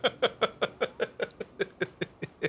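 A long, drawn-out burp from the Megatron character voice in a game, heard as a rapid series of about thirteen regular croaking pulses over two and a half seconds, fairly loud and close with no talk over it.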